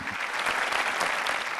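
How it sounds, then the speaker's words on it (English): An audience at a conference in India breaks into a huge round of applause, dense continuous clapping from a crowd at moderate volume, steady and unbroken. "Can we please give her a huge round of applause?"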